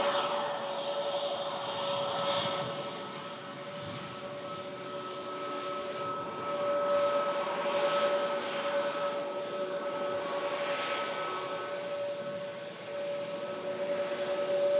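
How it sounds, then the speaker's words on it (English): An Embraer charter jet departs Manchester Airport in stormy weather, its engines giving a steady, loud roar with a sustained whine that holds throughout and swells slightly midway. "Looks like the Airx charter Embraer is going to be the next departure"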